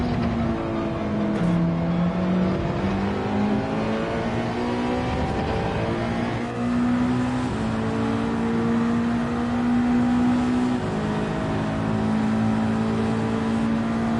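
Nissan GT-R race car engine in Gran Turismo, racing at Suzuka, revving loudly with pitch climbing through gears and dropping on shifts, a continuous close engine note with no voices.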